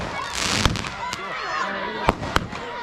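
A multi-shot fireworks barrage on Bonfire Night, several loud sharp bangs and crackles outdoors with whistling trails, while people talk and exclaim nearby.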